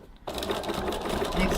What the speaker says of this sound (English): I'm going to also stitch another second line